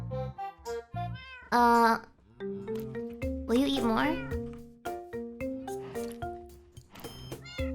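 Minecraft cats meow repeatedly in the video game, several short high-pitched meows spread across the stretch, mixed with a person's speech.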